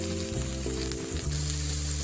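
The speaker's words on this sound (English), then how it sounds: "Saute the onions and bell peppers together with the chicken" Onions, bell peppers and chicken sauté in a pan for cheesy chicken pasta. The sizzle is steady and close, with a low hum underneath and no speech.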